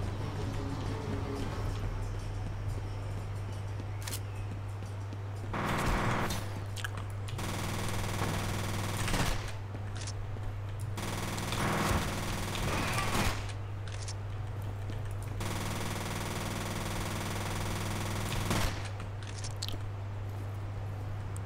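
Sustained automatic gunfire in the shooter F.E.A.R., with long loud bursts broken by short pauses over a steady low hum, no talk.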